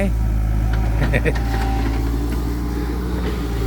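A black six-wheel truck rolls in at a worksite, its engine a loud, steady low rumble close by, with a person talking over it.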